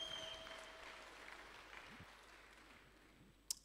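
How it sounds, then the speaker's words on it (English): A congregation applauding at a church service, a soft, somewhat distant patter of hand claps that gradually fades, ending with a brief sharp knock. "Give a good hand clap to my wife."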